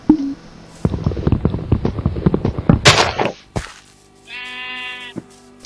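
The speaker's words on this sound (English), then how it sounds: "So I heard a sheep and it was just spinning around." Sheep bleating in a survival video game, a wavering bleat near the end after a run of rapid sharp clicks and thuds from in-game actions.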